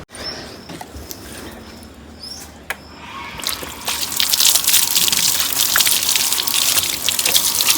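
Water sprays onto a motorbike being washed, starting as a light trickle and swelling into a loud, continuous gush after a few seconds, with no talking.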